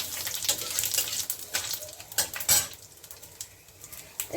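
Panch phoron and whole cumin seeds sizzle and crackle in hot oil for a Bengali moong dal and ridge gourd dish, a steady close frying hiss broken by sharp pops and the clink of a utensil against the pan.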